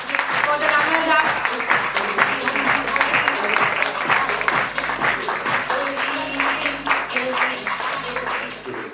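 A loud round of audience applause at a corporate cricket league prize ceremony, honouring the runners-up, with dense clapping sustained throughout, mixed with background music and a voice over the crowd.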